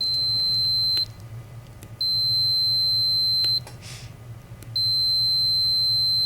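Star Trac treadmill keypad giving short, sharp electronic beeps, three separate high-pitched tones about a second or more each over a low steady hum, with faint clicks between them.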